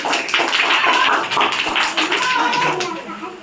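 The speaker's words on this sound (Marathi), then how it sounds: "जोरदार टाळ्या द्यायचे." Loud applause from gathered villagers at an outdoor rainy-day gathering, a dense run of clapping that fills the whole stretch, with voices mixed in.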